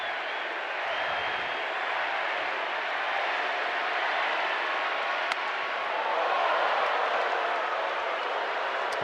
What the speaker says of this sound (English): The crowd is chanting Manny.